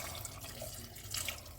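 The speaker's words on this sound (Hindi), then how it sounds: "ये मेरे पास छानी हुई 1 प्याला यखनी है। अब वो मैं इसमें डालूँगी।" Strained meat broth (yakhni) pours steadily into a cooking pot of potato and meat curry, a soft continuous liquid trickle and splash heard alone at low volume.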